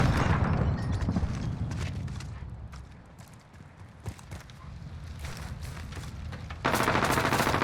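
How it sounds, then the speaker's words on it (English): Gunfire in a first-person shooter video game: rapid bursts of automatic fire crackle loudly, fade to scattered shots mid-way, then surge back loud near the end. "Couldn't see the enemy shooting at my teammate behind the side blue building"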